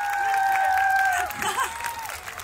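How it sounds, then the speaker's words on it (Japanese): Audience at a televised Japanese singing competition show applauding after a performance, a steady wash of clapping under a sustained musical tone and some voices, fading near the end. "大きな拍手お願いいたします。"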